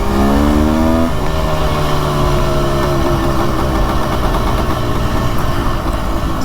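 A 400cc two-stroke engine runs loud and close, its pitch climbing sharply as it revs hard in the first second, then holding a raspy, buzzing drone at high speed, with no voices.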